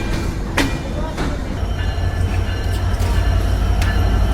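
Bangladeshi Ekota Express pulled by locomotive 66-8 arriving at Parbatipur station, with a continuous low rumble of rolling coaches and a few sharp squeaks and clanks. Voices can be heard under the noise.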